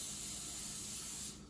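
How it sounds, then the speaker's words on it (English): Cooking oil pan spray hissing out of a can into a warm pan, one steady close spray lasting over a second before cutting off, alone without talk. "so we're going to take some pan spray"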